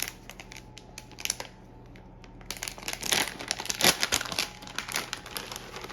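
An 8-ounce plastic bag of shredded Colby and mozzarella cheese is torn open and handled, producing close, loud crinkling and rustling in irregular bursts that grow busier partway through.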